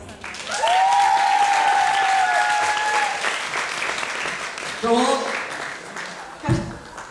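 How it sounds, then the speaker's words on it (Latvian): A stage-show audience bursts into loud applause to welcome a guest, the clapping and cheering running throughout while a voice speaks over it and music plays faintly. "ar aizturētu elpu un aplausu vētru sagaidām uz skatuves Olgu"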